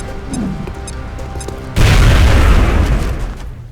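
In X-Com: Enemy Unknown, a grenade goes off as a sudden loud explosion that cuts through a rumbling game background. A heavy, broad blast follows and then fades out over a few seconds.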